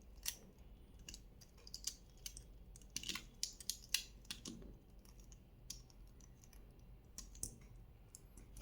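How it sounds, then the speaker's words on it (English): Corner pieces are pulled out of a disassembled Rubik's cube, making faint, dry plastic clicks and snaps in an irregular scatter over a quiet background. "After that, you can just pull out these corners and you'll be left with just the edges."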